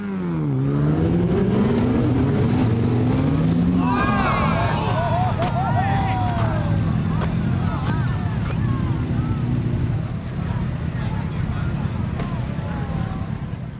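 A motorcycle on a drag strip roars loudly and steadily as it revs and accelerates hard through its run, engine pitch sweeping and shifting, with a voice talking over it.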